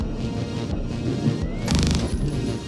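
Rapid crackling bursts of point defense gunfire shooting down missiles, mixed with booming explosions in a dense Void Crew space game soundscape, loud and continuous over a heavy low rumble.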